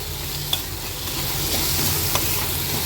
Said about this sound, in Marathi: आता झाकण न देता हा टोमॅटो पण आपण शिजवून घेणार आहोत